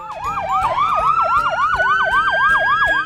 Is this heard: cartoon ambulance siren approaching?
yes